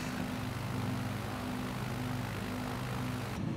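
A steady, droning propeller airplane engine hums continuously in Microsoft Flight Simulator 2020, a dense, even roar with no other sounds over it.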